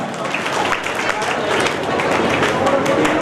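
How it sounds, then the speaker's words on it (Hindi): Loud, steady crowd applause at a community awards ceremony honoring Mahendra ji, the lawyer, many hands clapping densely throughout while a voice speaks underneath. "इनके सम्मान में एक बार जोरदार तालियां हो जाए"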